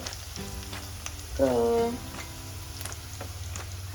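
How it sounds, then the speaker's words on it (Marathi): Onion and garlic fry in a pan with a steady, close crackling sizzle throughout, briefly joined by a short vocal sound in the middle. "सोनेरी रंगावर भाजून घ्यायचं आहे कांदा आणि लसूण"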